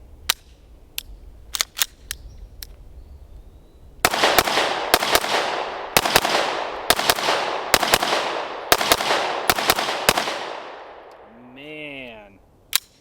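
A ported Staccato C pistol fires a magazine outdoors: a few spaced shots, then a rapid string of about a dozen sharp, loud cracks, followed by a brief electronic warble.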